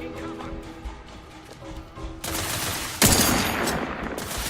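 Gunfire in Outer Worlds 2, a dense, continuous automatic barrage that kicks in abruptly and grows louder with a sharp heavy blast, close and sustained under game noise.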